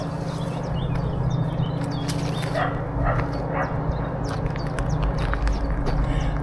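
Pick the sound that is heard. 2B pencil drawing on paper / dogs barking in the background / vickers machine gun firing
dogs barking in the background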